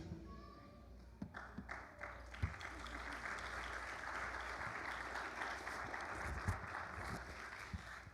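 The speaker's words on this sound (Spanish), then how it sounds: "Como sé que ese aplauso es para el Señor" A church congregation at a Sunday service claps together, a sustained wash of applause building slightly, with a few sharper individual claps and faint voices underneath.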